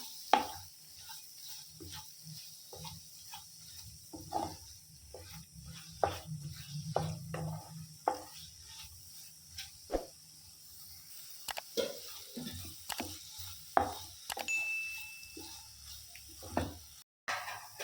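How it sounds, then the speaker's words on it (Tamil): Masala for boiled egg omelette gravy sautéing in a pan: soft sizzling with repeated scraping and stirring taps of a spatula, a steady low frying hiss underneath, fairly quiet and close. "இதையும் நல்லா பச்சை வாசம் போகிற வரைக்கும் நல்லா வதக்கிக்கலாம்."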